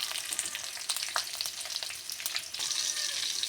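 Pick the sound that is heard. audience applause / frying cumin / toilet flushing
frying cumin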